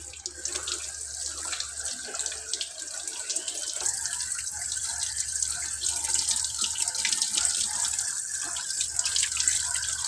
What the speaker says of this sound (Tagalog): Bago po natin lutuin mga idol, ay hugasan po natin ng maigi.